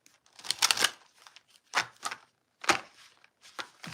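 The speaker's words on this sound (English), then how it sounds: "Sorry, guys, I forgot how to shuffle." A deck of playing cards being shuffled up close in several quick riffling bursts separated by short pauses, quiet and alone.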